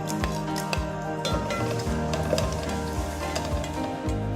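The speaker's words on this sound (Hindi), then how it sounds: "अब इसमें तेज पत्ता, दालचीनी, बादिया खताई का फूल, काली मिर्चें और लौंग डालते हैं।" Bay leaf, cinnamon, star anise, black pepper and cloves sizzle in hot oil for an aloo matar pulao, a steady close crackle with periodic low thumps from stirring against the pot.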